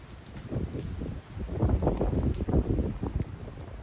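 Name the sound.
wind blowing during Hurricane Francine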